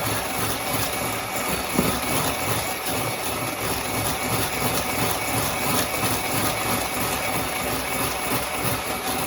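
An electric mixer beats tiramisu cream with egg yolks at high speed, a continuous dense motor whir with steady buzzing, close and even throughout, with no one talking.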